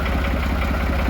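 A tractor engine idles steadily nearby, with a continuous low throbbing hum and an even pulse, with no talk over it.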